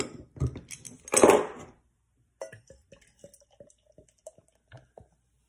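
Anchor Steam California Common beer from Anchor Brewing in San Francisco is poured from an opened bottle into a glass: a short splashing pour, then a scatter of soft drips and small clinks, close and quiet.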